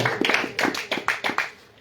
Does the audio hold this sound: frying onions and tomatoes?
no